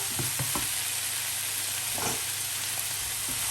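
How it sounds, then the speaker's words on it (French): Pan-fried Brussels sprouts sizzle steadily in a hot pan while a utensil stirs them, giving a few scraping, clattering strokes over the constant frying hiss. "Donc, je mélange tout ça."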